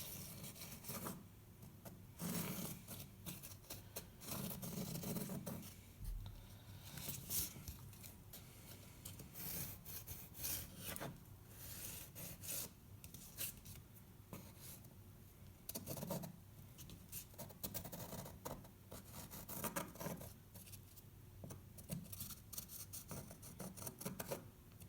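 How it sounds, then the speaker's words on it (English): A pencil traces an arch shape onto a costume piece, giving a steady soft scratching and rubbing that continues through the stretch with short pauses, close and fairly quiet, with no talking. "I will start tracing."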